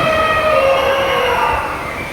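A siren built to mimic an elephant's call at the Lalbagh flower show wails loudly and steadily, a sustained tonal blare that barely changes over its length, with no voices.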